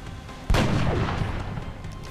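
A single loud sniper rifle shot in the turn-based strategy game XCOM bursts out sharply, then a long booming echo and rumble trail off and fade slowly.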